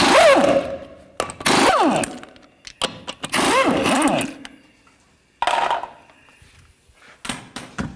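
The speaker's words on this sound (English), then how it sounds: "Take the lug nuts off, use the same 22mm socket." Lug nuts on a 2007-2014 GMC Sierra 3500HD pickup truck being removed with a 22mm socket on a power tool, heard as several loud close bursts of whirring, rising and falling ratcheting with pauses between them.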